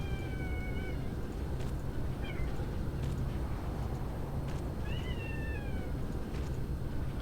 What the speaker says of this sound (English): My cat is screaming at me.